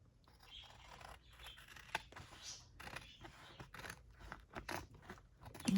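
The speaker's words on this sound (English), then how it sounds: "You may wonder why I use these big old honking scissors for this." Large scissors snip through paper for a handmade journal, a series of close, crisp cuts and rustles at uneven intervals, fairly quiet with no voices.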